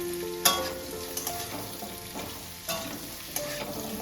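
Bottle gourd and prawns with slit green chillies stir-fry in a pan, a loud steady sizzle broken by several sharp scraping strokes of the spatula, close up and without speech.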